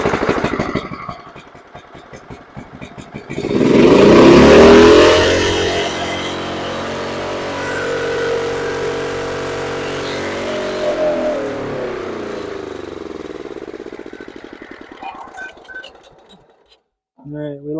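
After a carburetor cleaning, the engine of a John Deere STX38 lawn tractor cranks and then surges up into a loud roar. It settles into a fluctuating run that fades over the following seconds, with talk heard during the clip.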